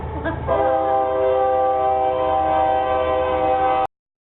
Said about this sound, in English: We live really close to a train, and you heard it.